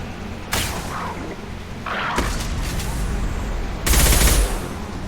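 Gunfire in Mass Effect 2 Legendary Edition: loud, close bursts of weapon fire in three separated volleys, the last heaviest and booming, over background combat noise.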